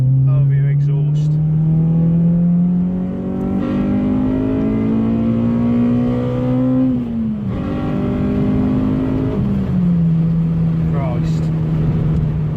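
A Honda engine with VTEC engaged revs hard through an exhaust fitted with a midbox, a loud, close, rising engine howl that climbs in pitch, dips briefly at a gear change, then holds a steady high drone.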